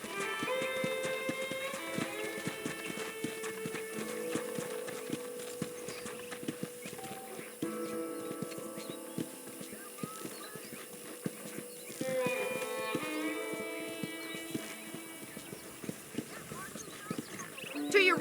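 Horse hooves clip-clop at a walking pace in Red Dead Redemption, steady and close beneath music and a man's spoken dialogue, with a brief whinny.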